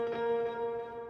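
Sustained piano notes with a delay effect, steady harmonic tones carrying on smoothly for about a second at moderate level, with no voices.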